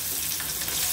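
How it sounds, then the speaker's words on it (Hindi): A small, finely chopped onion fries in a pan with a steady, close sizzle that carries on without a break and has no talking over it. "कच्चा पन जाने तक हम प्याज को भून लेंगे"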